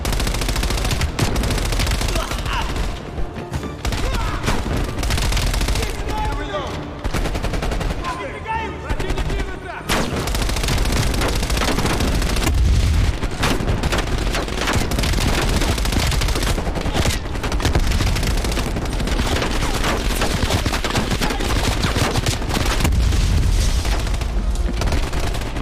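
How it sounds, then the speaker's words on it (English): Dense, loud gunfire and blasts fill the Call of Duty Black Ops Cold War campaign battle, with rapid bursts, automatic fire and booms that continue almost without a break throughout. "We all need suppressing fire"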